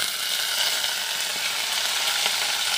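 Shrimp frying in hot oil with onion and chili in a pan, a loud, continuous close sizzle that holds steady throughout.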